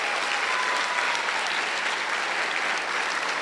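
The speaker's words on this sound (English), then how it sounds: "let's give them a round of applause" A high school crowd at a spring sports awards night gives parents and guardians a round of applause, a steady, even roar of clapping lasting a few seconds.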